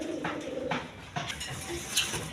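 Two Sirazi Lahori pigeons with white coloring, both males, coo softly in a few low, rolling calls close by, alone without speech.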